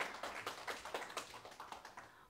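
Audience at a retirement-planning concert clapping to welcome a speaker, a soft, distant patter of claps in an uneven rhythm, faint overall.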